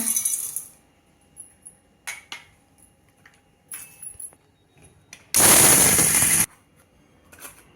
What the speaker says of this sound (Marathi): खडी साखर दळली आहे आपण मिक्सरमध्ये